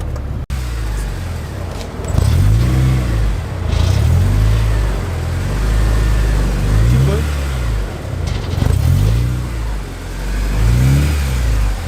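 A Honda Si with a manual gearbox creeps along while being repositioned, its mid-pitched engine revving and surging in repeated swells close by, with a low rumble throughout and a sharp click near the start.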